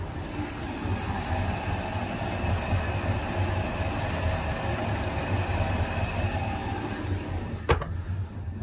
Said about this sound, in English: It's a lovely smooth running engine